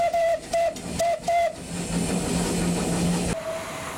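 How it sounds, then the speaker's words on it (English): A unique steam tank locomotive at Ramsbottom Station in Lancashire gives four short whistle blasts, then a longer whistle tone under hissing steam and rumbling, ending in a single fainter whistle. "Let's watch as this unique locomotive runs round here in the heart of Lancashire at Ramsbottom Station."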